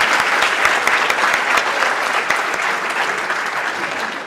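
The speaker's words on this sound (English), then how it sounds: "everyone give them another round of applause" An audience at a debate applauds, dense sustained clapping from a crowd, close and loud throughout.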